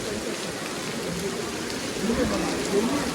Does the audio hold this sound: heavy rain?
yes